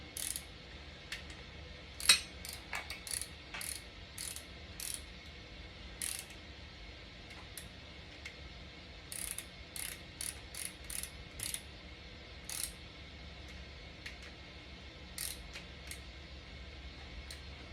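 A ratchet snugs a bolt on a Chevy 421 ci small block engine, its quick metallic clicks coming in short irregular bursts, close and clear over a low steady background hum.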